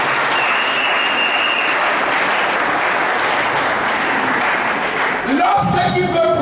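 Church congregation applauding during a sermon: dense, sustained clapping from a large crowd throughout, with a brief swell of voices and cheering near the end.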